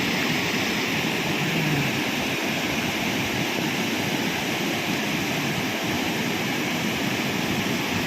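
Swollen, flooded river and mountain waterfalls pour with a loud, steady rush of water that fills the scene without a break, near and overwhelming, with no voices heard.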